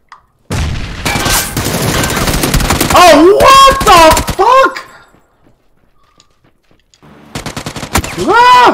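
Video game gunfire comes in loud bursts of rapid shots, with a rattling volley up front, a quiet gap, then more close fire. Players talk over parts of it.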